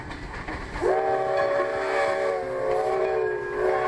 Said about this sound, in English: Old number 9 coming down the line here. Coming down the track right beside me.